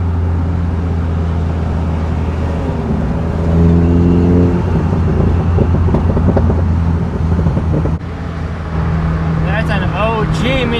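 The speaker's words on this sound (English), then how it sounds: "The car has so much more pops now, and it's a lot louder than pops." An R56 Mini Cooper with the secondary cat, resonator and muffler deleted runs loud and close, swelling into a rev around the middle before settling back to a rumbling idle, with wind buffeting the microphone.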